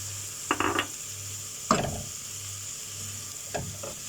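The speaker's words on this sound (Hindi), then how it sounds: "अब इसको थोड़ा सौते करना है, थोड़ा फ्राई करना है इसको" Chopped cabbage is stir-fried in a hot pan for chicken fried rice at a street food stall, giving a few short scraping stirs and bursts of sizzling over a steady background hum.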